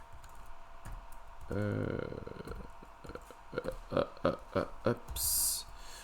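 Computer keyboard keys tapped at a desk in a series of quick clicks, a burst midway and a rhythmic run of keystrokes toward the end, with soft talk at times.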